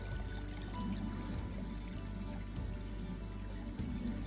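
River water rushes steadily beside a forest trail at Deraniyagala Udamaliboda, a continuous broadband wash of flowing current that stays even and close throughout, with no talk.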